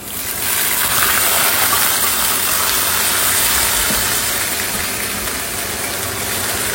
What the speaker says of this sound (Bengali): এখন আমি এটা বাগার দিব, দারচিনি এলাচ দিয়েছি, সাথে রসুন পেঁয়াজ দিব